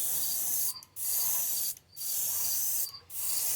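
A spray gun hisses loudly and continuously as iridescent paint goes onto a 1966 Ford Mustang, broken by three brief pauses where the trigger is released, close and alone.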